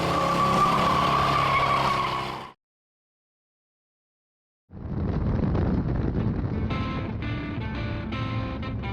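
A patina 1965 Chevy C10 pickup with a worn 305 engine does a burnout, loud roaring engine and tire squeal, broken by a sudden silent gap, then the noisy engine and tire scrub resume with wind buffeting.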